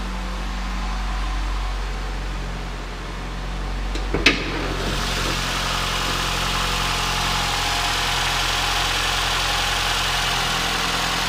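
A 2011 Nissan Rogue's 2.5-liter engine idles steadily with a low, even hum under the open hood, with one sharp clack partway through and no voices.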